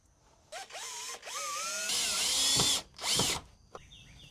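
A power drill driving screws during a DIY custom detail project, with several short whirring bursts that rise in pitch and stop, plus a longer sustained run, close and clear with no talking.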